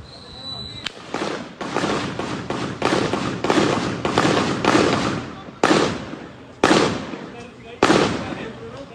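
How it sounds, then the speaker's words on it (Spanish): Repeated bursts of firearm gunfire crack out in quick succession, loud and close, with several heavier separate blasts toward the end; a voice is heard briefly. "eso que está viendo es una ráfaga de arma de fuego"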